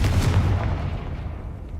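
A Confringo blasting spell explodes in Hogwarts Legacy, a loud deep boom with a rumbling tail that decays over nearly two seconds, heard alone.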